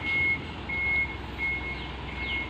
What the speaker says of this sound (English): Now we have a small truck coming on, which will be part of and it will pull right in front, of course.